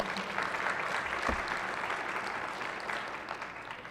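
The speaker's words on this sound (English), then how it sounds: "one more round of applause, please, for our honoree" A room full of people in a state senate chamber claps steadily at moderate volume for an honoree, the applause continuous and then slowly thinning toward the end.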